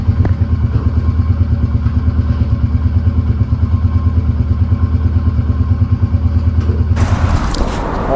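Motorcycle engine running steadily at the start of a solo ride from Delhi to Agra, a loud, close, continuous throbbing drone with a quick pulsing beat, joined near the end by a sudden burst of brighter noise.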